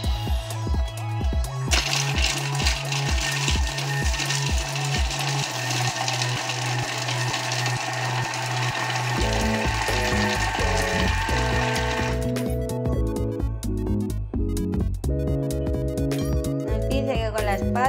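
Thermomix-style food processor mixing fish stew ingredients at speed 4, a steady loud whirring drone with mechanical rattling that runs for about ten seconds before stopping, with a lighter clatter afterward.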